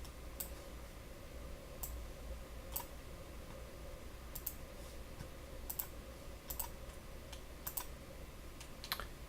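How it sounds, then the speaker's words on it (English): Faint, scattered mouse clicks tap through an online grading rubric on a computer, spaced irregularly over a steady low room hum. "First click on the rubric and click through it."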